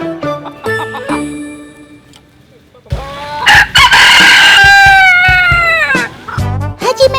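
A long-tailed chicken from Japan clucks in short bursts, then lets out a loud, drawn-out crow at close range, followed by more clucking.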